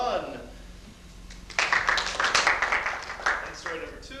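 An audience at a 1994 madrigal dinner applauds to vote for story number one; a voice speaks first, then a burst of dense clapping rises and holds at moderate loudness before tapering off.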